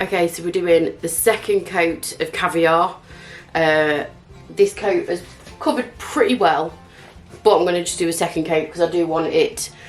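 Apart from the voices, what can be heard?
No distinct noise like a dog, phone or traffic.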